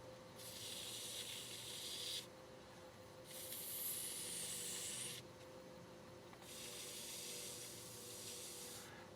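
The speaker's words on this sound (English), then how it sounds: "this is some of the finest sanding you can do" A shaving brush handle is fine-sanded with 1,500 grit paper, a soft, close hissing rub in three long passes separated by brief pauses, faint and steady over a low background hum.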